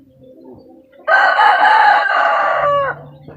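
A large rooster crows loudly and close by, one sustained crow of about two seconds that drops off at the end, after some faint background rustling.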